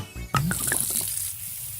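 Water is poured through a strainer in a bid to mimic Minecraft rain, giving a close, steady hiss of fine splashing and trickling after a sharp initial knock.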